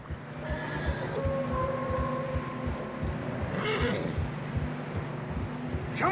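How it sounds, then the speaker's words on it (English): A horse in the video game Red Dead Redemption 2 gallops with steady, rhythmic hoofbeats and lets out whinnying neighs, set against a windy outdoor bed of noise. "Look at my horse."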